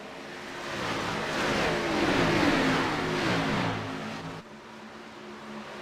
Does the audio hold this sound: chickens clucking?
no